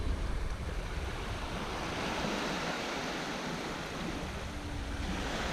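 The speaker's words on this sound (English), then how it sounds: "The sea." Sea waves rolling onto the shore at Runswick Bay, a continuous wash of surf with wind buffeting the microphone, steady and moderately loud with no voices.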